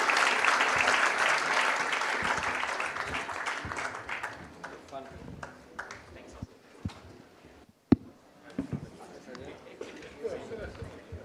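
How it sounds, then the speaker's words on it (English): Audience applause at a CEO roundtable swells loud and dense at first, then thins to scattered claps and fades over several seconds, with a sharp knock and a few voices as it dies away. "Round of applause, ladies and gentlemen."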